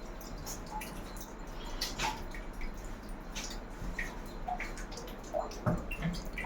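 A child washing a bicycle with water in a bathroom, with dripping, splashing and trickling water over a steady background hiss, scattered taps and small knocks of the bike, close and fairly quiet with no talk.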